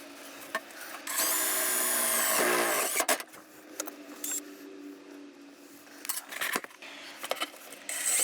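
Cordless power drill driving screws into an F350 truck floor panel during repair, one sustained whirring burst followed by clicks, knocks and handling sounds, close up.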